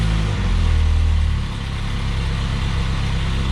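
Engine of a Spartan Urban Warrior hydro jetter running, a close low rumble that drops slightly after a moment and then settles into a steady hum.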